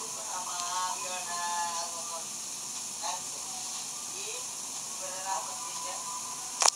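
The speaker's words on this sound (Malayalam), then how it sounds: "ഞാനിപ്പോൾ ഓരോന്നോരോന്നായി ഇതിലേക്ക് മാവിൽ മുക്കി പൊരിച്ചുകൊണ്ടിരിക്കുകയാണ്" Potato bondas dipped in gram flour batter frying in hot oil, a soft continuous hiss and bubbling sizzle with occasional crackles, close but fairly quiet, a sharp clatter at the end.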